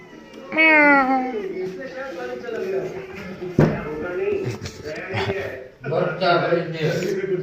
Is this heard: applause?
no